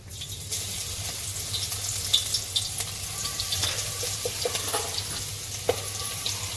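Garlic frying in oil for soybean manchurian: a steady close crackling sizzle with scattered sharp pops and a few stirring scrapes, continuous throughout with no voices.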